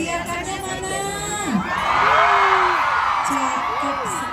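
Outdoors at a city anniversary parade and ceremony in Bangli, a crowd of children cheers, whoops and shouts loudly, with the cheer swelling midway and holding.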